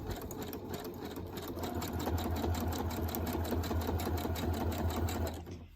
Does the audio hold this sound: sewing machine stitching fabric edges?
yes